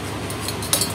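A metal spoon clinks lightly against a glass while salt and sugar water is mixed, one or two brief bright taps close by against a steady low hum.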